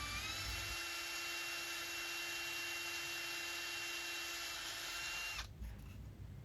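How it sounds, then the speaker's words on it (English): A power drill whines steadily at high speed for several seconds while boring a pilot hole in hardwood, then stops abruptly near the end, leaving a quieter background. "I'll change the bit to then do the pilot hole for the handles."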